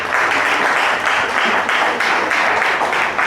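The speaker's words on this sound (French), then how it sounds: "Applaudissez." Audience applause at a children's music camp show, a dense continuous wash of many hands clapping at steady loudness from start to finish, with no voices over it.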